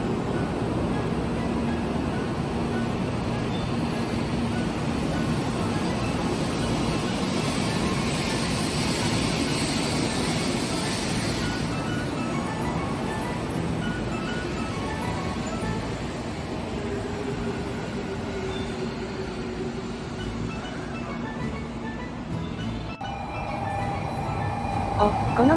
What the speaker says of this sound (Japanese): のぞみで岡山まで行くぜ。